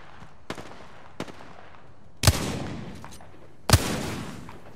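Gunfire in Apex Legends aimed at a cargo bot: two light shots, then two heavier, louder bursts about a second and a half apart, each trailing off into a ringing tail over steady background noise.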